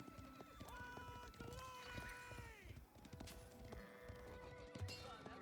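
A video game horse neighs and whinnies loudly over rhythmic clip-clopping hooves, with game-like ambient sounds layered behind; no speech.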